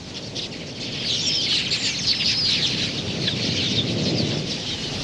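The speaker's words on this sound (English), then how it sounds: "Swirling flocks of quillias converge on the diminishing water holes to quench their thirst." Huge swirling flocks of quelea birds gather at shrinking water holes, producing a dense, loud wash of countless chirps and wingbeats that swells and holds steady.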